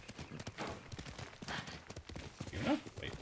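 Horse hooves galloping in the video game Ghost of Tsushima, a quick, steady run of thudding beats continuing close and prominent throughout.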